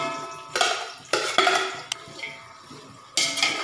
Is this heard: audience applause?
no